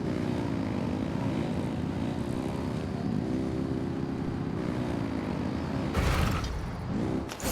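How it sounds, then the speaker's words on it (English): Aircraft engines rev in Genshin Impact, a steady droning propeller roar held close and loud throughout, with a brief surge of louder rushing noise near the end. "Rev the engines!"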